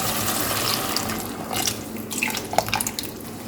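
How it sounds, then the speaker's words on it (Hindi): Prepared liquid is poured from close by into cooking chicken in a pan for chicken macaroni. It makes a steady watery pouring and splashing that runs the whole time with small drips near the end, and no one speaks. "अब इसमें मैं ये लिक्विड डाल दूँगी जो मैंने तैयार किया था"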